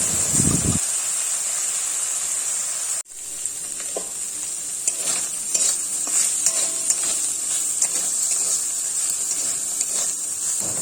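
Shrimp and small fish, salted and coated in turmeric, fry in hot oil in a wok. A steady bright sizzle runs throughout, broken briefly by a clatter, with occasional stirring scrapes.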